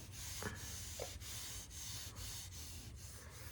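Dual-action sander grinding down body filler during Honda Pilot bodywork, a steady close abrasive whir with rhythmic scuffing pulses as the pad is worked back and forth, no voices.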